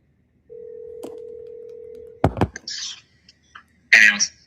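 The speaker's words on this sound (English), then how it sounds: "I'm going to double dial." Telephone line on a redialed call: a single steady electronic tone holds for nearly two seconds, then a loud close clunk, brief rustling noises and a short burst near the end.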